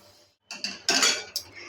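Roasted rice semolina is scraped from a hot pan into a bowl, giving a few close metallic scrapes and clinks from a spoon against the metal in short bursts.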